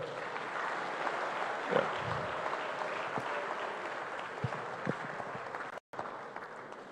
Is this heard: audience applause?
yes